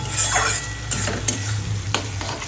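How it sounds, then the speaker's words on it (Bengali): Capsicum, beans, tomato and onion sauté in a pan with a close, steady sizzle, broken by a few sharp scraping stir strokes. "সোয়াবিন রান্না করবো, সেই জন্য আমি ওটাকে ক্যাপসিকাম, বিনস, টমেটো, পেঁয়াজ দিয়ে এটাকে একটু কষাচ্ছি।"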